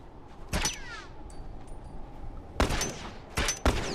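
Gunfire in The Last of Us: one sharp shot early, then after a quiet stretch a quick burst of several close, loud reports, the last two coming in fast succession.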